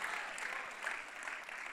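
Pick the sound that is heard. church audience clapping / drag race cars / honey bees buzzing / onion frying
church audience clapping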